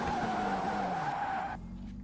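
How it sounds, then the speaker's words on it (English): Tyres locking up and squealing under hard braking in the rFactor 2 racing sim, approaching Corpse Corner: a sustained high screech over engine noise that cuts off abruptly near the end. "you heard the tyres squealing there"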